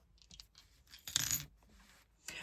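Small charms and numbered dice dropped onto a surface in a charm casting, giving a cluster of light clinking, rattling impacts with a louder tumble in the middle and a final clatter, close and alone without talk.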